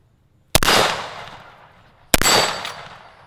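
Two loud rifle shots from a Falkor Defense Caitlin .223 Blitz at an outdoor shooting range, each a sharp close crack with a long rolling echo, about a second and a half apart.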